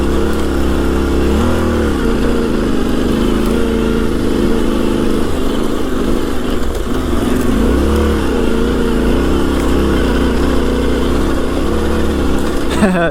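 A Yamaha Tenere 700 motorcycle engine drones loudly and steadily while riding, its pitch rising and falling as the throttle shifts, with constant wind rush around it.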